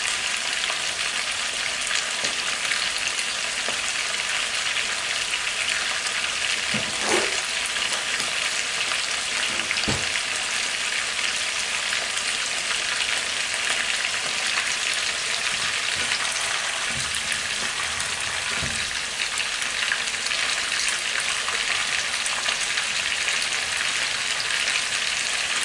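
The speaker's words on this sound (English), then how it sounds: "We are going to allow it to fry." Paella ingredients frying in a pan give a loud, continuous sizzle with a few soft stirring knocks, and nobody speaks.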